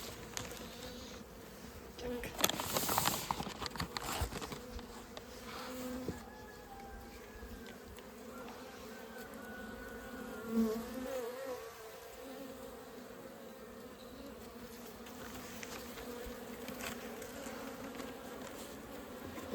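Honeybees hum steadily at a hive during spring mite treatment, a continuous close buzz with brief louder swells as individual bees pass near.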